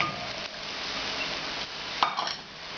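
Beef bourguignon with its tomato-and-onion marinade gets stirred in a pot, giving a steady wet scraping and bubbling texture with one sharp utensil clank near the end.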